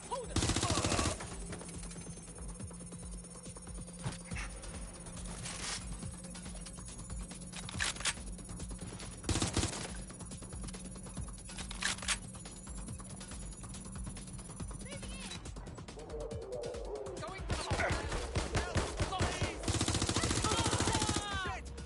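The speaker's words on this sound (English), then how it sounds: "Shots fired! Shots fired!" Rapid bursts of automatic gunfire in the video game Watch Dogs Legion, loud and dense, crackling repeatedly across the scene with shouting voices in the mix.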